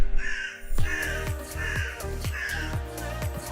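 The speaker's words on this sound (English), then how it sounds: "That bloody bird." A crow caws repeatedly, five or six loud harsh calls in a steady rhythm, close and prominent over a noisy background without talk.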